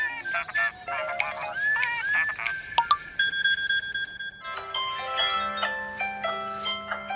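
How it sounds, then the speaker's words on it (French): A smartphone alarm goes off in the morning, playing a bright electronic melody of short beeping tones. A few separate notes lead into a fuller repeating chime, clear and close, with no talking. "Déjà c'est mon réveil, ça commence, il sonne le matin"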